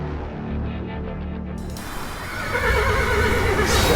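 A black demon horse whinnies loudly near the start, then clopping and rushing noise build and grow louder and denser toward the end.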